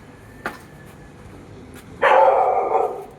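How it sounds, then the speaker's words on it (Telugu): A dog barks once faintly, then a loud, sustained bark or howl bursts out nearby for about a second. "కుక్కలు అయితే ఘోరంగా అరుస్తున్నాయి."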